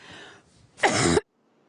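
A single sharp, loud cough bursts out after a brief murmur of background noise, then silence follows.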